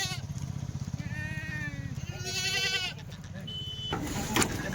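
Kathiawadi dairy goat on a farm bleating in several drawn-out, wavering calls, close and fairly loud, with people talking over it and farm background noise.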